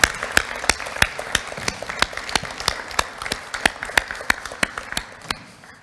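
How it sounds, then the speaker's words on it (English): Sparse, scattered claps from a small group, irregular and fairly close, with no voices over them. "I hope you join me in a big round of applause to the mentors"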